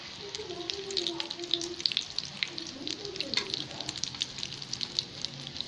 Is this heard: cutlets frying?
yes